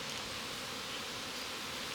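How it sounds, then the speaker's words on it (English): A swarm of bees drones in a dense, continuous buzz outdoors around a tree on a farm, steady and fairly soft with no voices over it. "There's a lot of bees in here right now."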